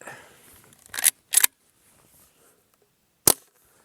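A Barra 1866 lever action BB rifle with CO2 being cleared: three sharp, close mechanical snaps, two in quick succession and a third after a pause, with near-silence between them and no talking.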